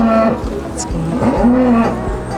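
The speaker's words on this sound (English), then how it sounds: "these cows are pretty much always out" Cows moo close by on a Massachusetts farm, several low drawn-out calls overlapping over a steady outdoor rumble.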